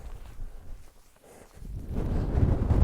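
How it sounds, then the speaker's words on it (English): Wind buffets the microphone in low rumbling gusts, easing briefly before swelling louder and steadier toward the end, with no talking. "It's a lovely night, very windy."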